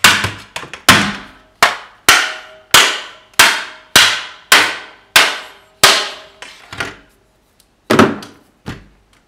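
A hammer strikes a blue Nerf Stryfe plastic blaster about a dozen times in a steady rhythm, each sharp, loud crack decaying quickly, with a few lighter taps between the blows; no talking.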